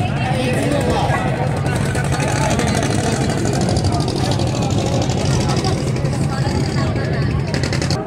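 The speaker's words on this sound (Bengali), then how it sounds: "ঘাট থেকে কিন্তু লঞ্চ ছেড়ে দিয়েছে" Passenger launch ferry pulling away from a river ghat near Mayapur, its engine a steady, loud low drone with broadband rumble and water noise that runs unbroken throughout.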